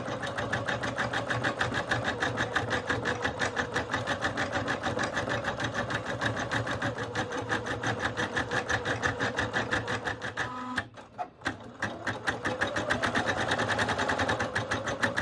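An embroidery machine stitches a patch in a steady, rapid mechanical chatter that runs loud and close almost throughout, with a short pause near the end before it resumes.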